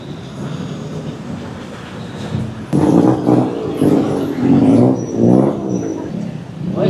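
A train ride in Bangkok: steady rumbling of the rail car in motion, growing louder partway through with rhythmic clattering and rolling noise, close and continuous.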